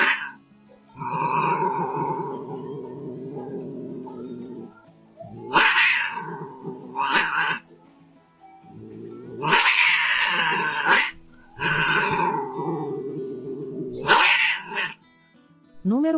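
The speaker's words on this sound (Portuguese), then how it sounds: "Barulho de gato bravo rosnando e atacando." Angry cat growling and yowling before attacking, long drawn-out caterwauls alternating with sharp hissing bursts, loud and close, repeated several times with brief gaps.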